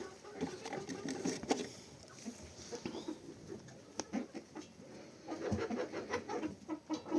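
Sick chickens with a respiratory cold peck and cluck softly close by, with scattered tapping and scratching sounds and occasional quiet sneezing snorts.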